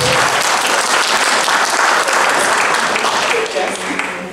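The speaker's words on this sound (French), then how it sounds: "Mais vos applaudissements là sont évidents." Continuing loud applause from the crowd at a benefit gala evening, dense clapping that fades a little toward the end as a voice begins speaking over it.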